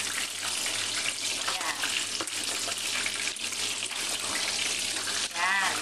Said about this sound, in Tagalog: Ang manok natin, ibahagya natin iprito or pwede din hindi nyo iprito.